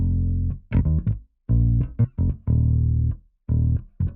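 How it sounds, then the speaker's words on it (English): Dry synth bass from the Trillian Retro 60s preset with no effects, playing a funky, choppy pattern of short and sustained notes separated by brief gaps, loud and upfront. "this funky bass pattern that I made using Trillion's Retro 60s bass"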